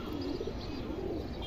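Silver pigeons kept for sale coo softly in a low, continuous murmur, with faint chirps scattered over a steady flock background.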